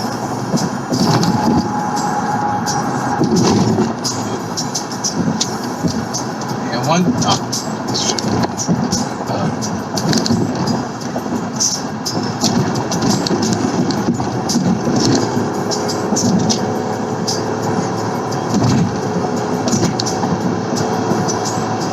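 A 1995 BMW 525i at speed on the road, with steady engine drone, tire and wind roar running throughout, loud and close from inside the cabin, punctuated by brief knocks and rattles.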